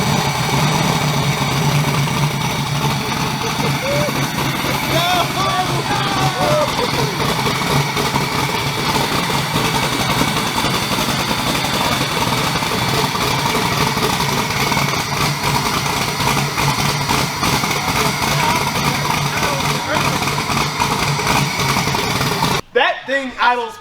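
A 2000-horsepower race car engine idling just after startup, a loud, continuous rumbling idle that runs steadily throughout, with people talking over it.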